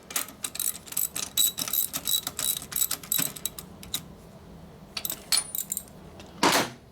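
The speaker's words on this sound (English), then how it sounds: "This one, I can actually use a socket because we have room for it." Socket ratchet wrench tightening bolts on a 1941 74ci Knucklehead motorcycle, giving rapid close clicking bursts in short runs with brief pauses, then a final louder clatter.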